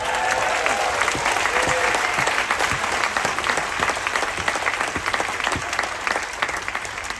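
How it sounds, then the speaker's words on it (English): A crowd applauding steadily for several seconds, dense clapping that holds at a constant level, with a few voices mixed in. "let's put our hands together for the Reverend Billy Seaworth."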